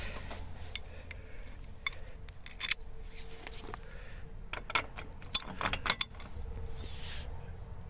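A 32mm socket fitted onto a car wheel nut, giving sharp metallic clicks and clanks in scattered bursts, close and fairly crisp, over a quiet low background with no talking.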